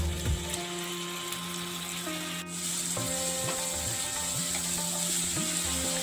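Mutton coated in spices, Kashmiri chilli powder and a little water hitting a hot wok for Bengali kosha mangsho, a steady sizzle with scraping and stirring noises close by.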